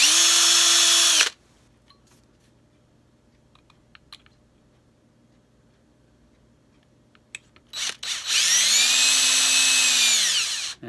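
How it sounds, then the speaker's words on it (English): A power drill drilling into wood whirs loudly for about a second, then after a quiet pause with faint clicks it spins up again for a few seconds, close by. "you gotta drill that."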